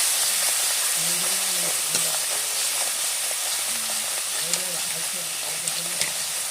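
Spices sizzle and are sautéed in oil in a pan for a rohu fish and potato curry made without onion or garlic; a steady hiss carries on throughout with occasional stirring taps and a faint voice in the background.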